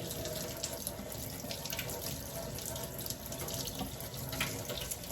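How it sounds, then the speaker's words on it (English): Tap water runs steadily into a sink as a bath bomb mold is rinsed out, a close, continuous splashing hiss with small shifts as the mold moves under the stream. "I'm gonna rinse this out."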